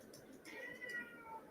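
A cat gives a few drawn-out meows in quick succession, fairly faint against a quiet room with light background hiss.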